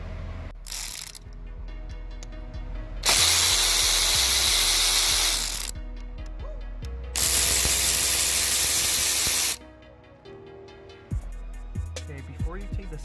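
A ratchet wrench on an extension with a 10mm socket works bolts loose on a Chevy Ecotec engine, producing two long, loud runs of rapid clicking with sparse metallic taps and pauses between.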